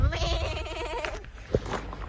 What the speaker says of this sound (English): those are goats